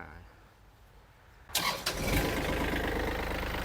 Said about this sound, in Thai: เครื่องยนต์นะครับสตาร์ทติดง่ายนะครับ